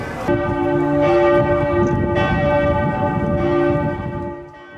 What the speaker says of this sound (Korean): 쯔빙거 궁전에서 조금 걷다 보니 웅장한 종소리를 내는 성모교회에 도착했다.